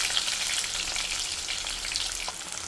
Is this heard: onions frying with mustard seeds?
yes